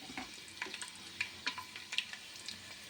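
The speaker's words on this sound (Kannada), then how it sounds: "ಬೆಳ್ಳುಳ್ಳಿ ಸ್ವಲ್ಪ ಫ್ರೈ ಆಗಬೇಕು." Finely chopped garlic frying in hot oil for lemon chicken, with a faint steady sizzle and soft irregular stirring clicks, quiet and close.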